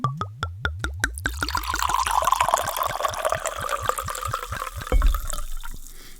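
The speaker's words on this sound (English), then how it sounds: "Put your volume up, folks. Time for the pour." Red wine glugging from a bottle in a quick rhythmic series of gulps, then flowing into a glass with a steady close trickle that ends in a few final drips.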